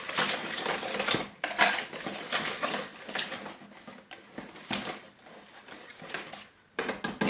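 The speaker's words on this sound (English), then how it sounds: "I'm going to go ahead and whisk this in." A whisk beats salt, pepper, onion powder and garlic powder into a potato casserole mixture in a bowl. It gives close, quick metallic scraping and clinking in uneven bursts with short pauses, and no one speaks.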